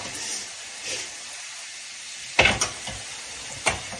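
Food frying in hot grease in a pot at a church potluck kitchen, a soft steady sizzle broken by a few sharp crackling pops near the end, no voices.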